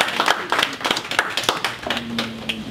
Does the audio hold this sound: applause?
yes